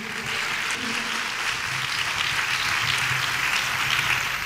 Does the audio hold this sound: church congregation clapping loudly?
yes